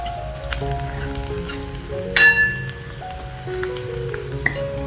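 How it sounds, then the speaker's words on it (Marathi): Onion sizzling and frying in a pan with salt, for a village-style chilachi wild greens dish, a steady soft crackle under faint musical tones and one brief louder clatter midway. "आता याच्यात जरा बघा कांदा भाजत आलेला आहे छान असं"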